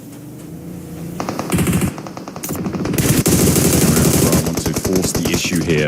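Rapid automatic gunfire from a PUBG Mobile esports match, loud bursts of rattling shots stacking up and intensifying over several seconds, with dense overlapping fire near the end.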